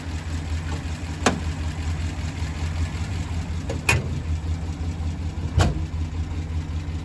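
A 1956 Studebaker President's engine idles steadily and close by, a smooth continuous rumble broken by three brief louder knocks or clunks, with no one talking.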